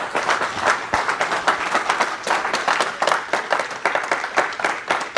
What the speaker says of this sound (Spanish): Vamos a darle un gran aplauso a Rey de Reyes